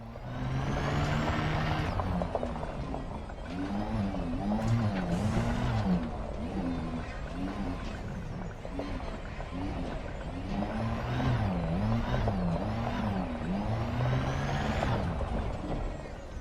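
Surface Reconnaissance Vehicle driving in the space game Elite Dangerous, a steady whirring motor drone with rising and falling electronic engine tones as it moves across terrain, loud and continuous throughout.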